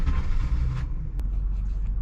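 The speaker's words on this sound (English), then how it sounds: "I'm going to take it for a test drive." A 1993 Ford Taurus on a test drive after a power steering rack and hose replacement, heard as a steady low road rumble and engine drone from inside the car, continuous and moderately loud with no speech.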